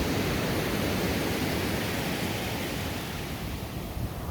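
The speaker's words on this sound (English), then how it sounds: "sound of the clashing waves" Ocean surf on the Washington coast at Damon Point, a steady broad roar of waves washing onto the beach at dawn, continuous and enveloping with no voices.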